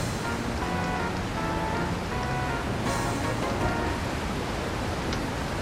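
Steady rain in The Andrea Artifact adventure game, a constant hiss of moderate loudness that stays even throughout, with a faint tonal background beneath.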